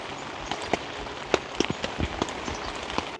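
Rain falling at a forest campsite, scattered drops pattering and tapping on nearby surfaces over a soft steady hiss, fairly quiet and close.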